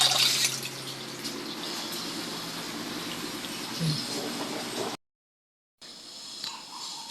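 Running water pours steadily over a washed rug being rinsed during home laundry, a close, continuous splashing rush with brief drips, cut off by a short silence before the flow resumes.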